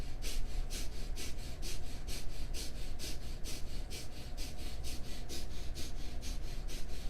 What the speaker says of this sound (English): this breath is a rapid inhale and exhale through the nose